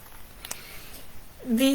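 A house cat gives a short meow at the end, close and fairly loud, after a stretch of quiet room tone with faint background noise.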